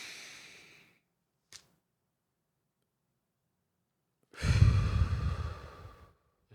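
Slow guided breathing during a wellness podcast session: a soft exhale trailing off, a tiny click, then after a pause a long, full breath near the microphone, with no talking over it.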